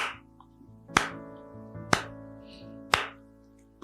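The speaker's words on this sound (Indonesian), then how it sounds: "pendetanya cuma tepuk tangan seperti kayak gini" Three sharp hand claps evenly spaced about a second apart, loud and close, with faint room hum in between, struck by a pastor during a church worship service.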